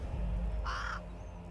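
A raven cawing once, a single short harsh call standing out over a low ambient drone in The Waylanders, a fantasy role-playing video game.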